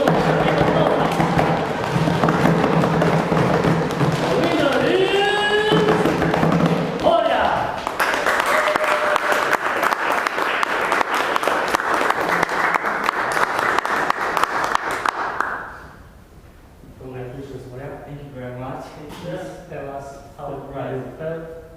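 A large crowd at a Toastmasters public speaking meeting claps and cheers loudly and continuously, then the roar drops away and a voice speaks over scattered noise.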